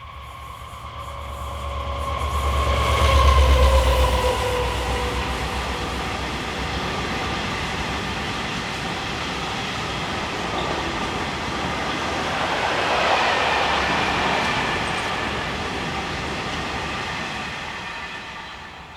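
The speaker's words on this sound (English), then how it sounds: "You'll see the occasional diesel along this line, such as this Euro 4000, in the shape of 4012 on a set of hoppers" A Euro 4000 diesel locomotive, number 4012, hauls a set of hopper wagons along the main line linking Marseille and Montpellier with Toulouse and Bordeaux. A steady rumble and rolling rail noise swell near the start, ease off, then rise again later, with no voices.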